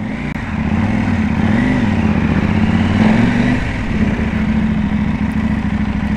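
A KTM Duke 790 motorcycle engine runs at a steady, loud idle throughout, its low rumble close by with slight pitch wobbles early on and no talking.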